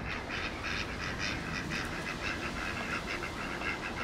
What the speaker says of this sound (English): Oh, ducks running all over the place.